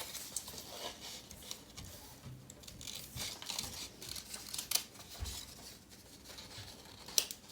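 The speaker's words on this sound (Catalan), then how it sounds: "Ja és suficient per poder entrar les tisores i poder treure aquest espai que hem d'eliminar d'aquí dins." Scissors snip and cut through fragile paper to cut out a paper Dumbo model, close and fairly faint, with irregular crisp snips and paper rustling throughout and no talk.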